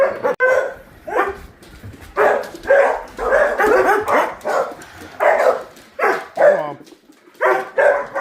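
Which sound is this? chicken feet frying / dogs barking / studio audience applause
dogs barking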